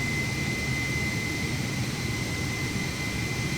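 Airbus A320 jet engines using the standard FlyByWire mod sounds in Microsoft Flight Simulator 2020, a steady roaring hum with a sustained high whine on top, constant and loud with no speech.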